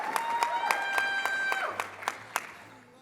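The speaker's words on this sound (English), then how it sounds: "Christine and her team knocked it out of the park, so please give them a round of applause." Applause at an awards ceremony: a small audience claps in scattered, fairly distinct claps that thin out toward the end, heard from a moderate distance.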